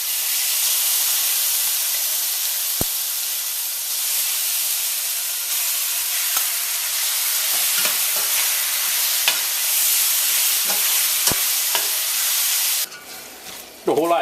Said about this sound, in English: I'm going to start adding the seasoned beef to the pot.